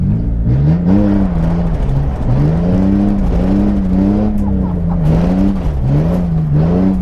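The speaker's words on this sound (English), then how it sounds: "Why don't you go in here and try and do a donut around that cone?" A car spinning a donut around a cone on dirt, its engine droning loud and close in a steady revving loop that rises and dips as it circles, with wheel hop and tire scrub underneath.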